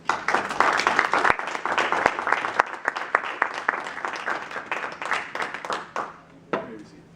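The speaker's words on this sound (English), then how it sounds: "Let's give them a round of applause." An audience at a student general assembly meeting applauds with dense, steady clapping for about six seconds, then tapers off into a few scattered claps and quiet room noise.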